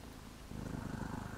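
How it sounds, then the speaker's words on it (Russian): A mother cat purrs softly to her nursing kittens, a low steady rumbling purr that swells slightly halfway through, close and quiet with no talk. "Мама поет колыбельную им, мурлыкает."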